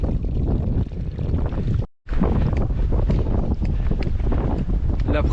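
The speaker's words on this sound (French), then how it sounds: "J'ai le vent qui arrive dans le dos." Strong wind buffets the microphone outdoors on a boggy, rock-strewn plain in Argentina, a loud continuous rumbling roar that drops out for a moment before returning just as heavily.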